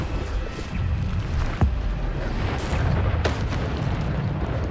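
Spell explosions and heavy magical impacts from Hogwarts Legacy gameplay on PC, with Bombarda blasts booming among repeated bursts and rumbling combat noise at a steady loud level.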